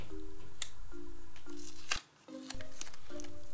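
A paper sticker hairpiece for a Day of the Dead character is peeled slowly off its sheet in short, close crackling pulls, with small papery rustles between them.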